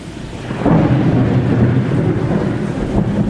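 Thunderstorm sound effect for a stage production of Macbeth, a steady low rumbling roar like rain and thunder that swells after a brief quieter start and holds at a loud level.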